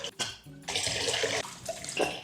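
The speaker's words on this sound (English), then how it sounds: "Dipping his face into ice water is kind of like his checkpoint throughout the day." A face dips into a basin of ice water with a sudden splash, then sloshing and running water continue for a couple of seconds close to the microphone.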